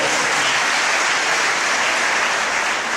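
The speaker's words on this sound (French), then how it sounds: "On va applaudir le clergé pour les efforts qu'ils font." A church congregation applauds the clergy, producing a full, continuous wash of clapping that stays loud and even from start to finish over three seconds.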